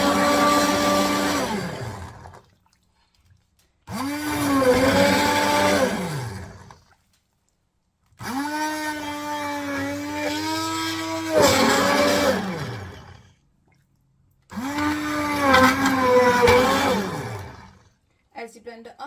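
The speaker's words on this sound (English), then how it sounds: "I'm just going to use a normal hand blender." A hand blender purees sweet potato and rosemary soup in four separate whirring bursts of a few seconds each, with pitch dips as the motor loads, divided by short silences.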